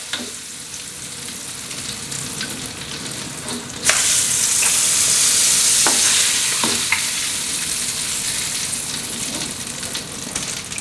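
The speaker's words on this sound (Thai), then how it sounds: "แล้วเราก็ทอดส่วนที่เหลือเลยนะครับ" Garlic shrimp dropped into hot oil for deep-frying, with a loud, steady crackling sizzle that swells sharply and then holds, broken by a few clinks of a utensil, close by, without any talking.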